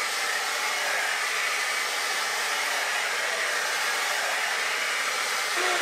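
A Babyliss Hydro Fusion 4-in-1 hot air brush with its brush attachment blows through hair, giving a loud, constant, close-up whooshing drone with no pauses.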